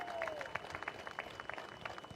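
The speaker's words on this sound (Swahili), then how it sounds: "Pigeni makofi jameni." Audience applause fills a hall at KICC during a presidential address at an Africa climate summit, a dense steady patter of clapping with a few sharper claps, sustained throughout.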